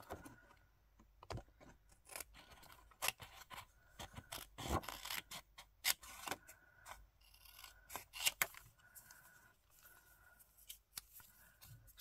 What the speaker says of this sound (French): Je vais couper l'excédent.